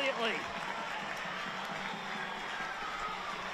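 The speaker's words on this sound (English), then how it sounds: "they give the home crowd something to cheer about" A packed home crowd roars at a women's football match, Newcastle Jets against Perth Glory in A-League Women Round 3, just after a Newcastle goal, a steady distant cheer filling the stadium.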